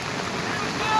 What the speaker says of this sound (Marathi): पूर्ण रत्नागिरीमध्ये पाऊस पडतोय